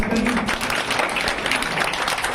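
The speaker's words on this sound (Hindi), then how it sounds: "जोरदार ताली बजा के स्वागत करिए" Crowd at a political gathering applauding to welcome a guest, a dense, steady wash of clapping lasting throughout, fairly loud with faint voices mixed in.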